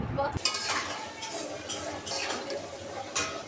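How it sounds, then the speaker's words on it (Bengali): A pan set down on the stove for frying a flour pitha batter, with a sharp metallic clunk followed by rattling pan and utensil clatter, close and fairly loud. "নাও, এবার নিয়ে চুলায় বসিয়ে দাও"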